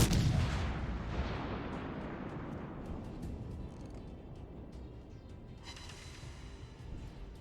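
Naval gunfire in World of Warships: Legends, a heavy booming salvo that opens loud and rolls away into a long fading rumble, followed by fainter scattered reports.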